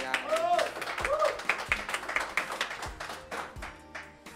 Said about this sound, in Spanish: Un aplauso para Joel.